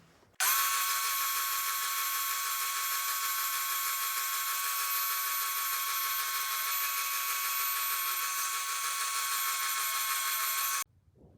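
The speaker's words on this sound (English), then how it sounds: "So to get this shape at the end, I'm using this sander right here." A sander rounding the end of a walnut mandolin part, likely the nut, whines high and steady for about ten seconds, starting and stopping abruptly, close and alone with no talk.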